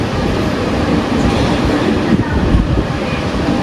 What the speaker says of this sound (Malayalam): ട്രിവാൻഡ്രം JSൻ്റെ ആദ്യത്തെ സ്റ്റോപ്പായിട്ടുള്ള തലശ്ശേരി റെയിൽവേ സ്റ്റേഷനിൽ എത്തിയിട്ടുണ്ട്